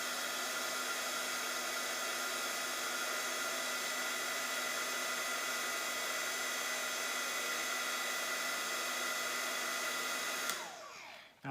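Heat tool blowing steadily on its low setting to melt embossing powder on a shrink plastic card project, a continuous close airy whir that cuts off near the end.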